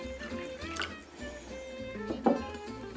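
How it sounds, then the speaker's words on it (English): Warm water poured into a container to fill it while making homemade dish soap, a soft trickling fill with small clinks and splashes close by, fairly quiet. "Now we're going to add in some of our warm water here just to fill it up."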